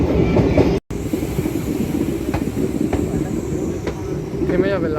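A MEMU train runs toward Bankura with a steady loud interior rumble, rhythmic clickety-clack of wheels on the rails, a brief dropout, and faint wheel squeal, heard from inside the carriage amid passenger chatter.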